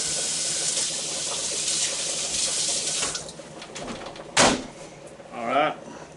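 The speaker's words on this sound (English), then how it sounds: "Wash my hands now." A kitchen tap runs steadily into a sink as hands are washed during pork loin preparation, a close, loud hiss that cuts off after about three seconds, followed by a thump and brief handling noises.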